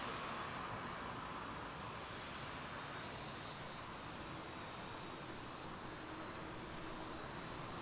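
Boeing 787 Dreamliner at Toronto Pearson Airport at night, a steady broadband engine roar holding evenly throughout at moderate distance with no other sounds breaking through.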